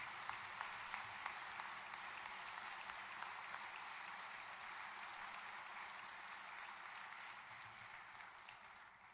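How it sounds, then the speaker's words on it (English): A large audience at a salute-to-heroes ceremony honoring Missouri heroes applauds in a steady, dense wash of clapping that holds for about nine seconds, slowly thinning toward the end. "Let's have one last round of applause for these exceptional Missouri heroes."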